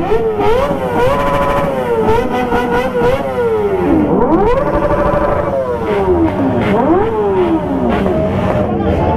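A Kawasaki Ninja H2 motorcycle revs hard to the limiter at a wedding gathering, its engine rising and falling in repeated loud, close sweeps, with people talking underneath.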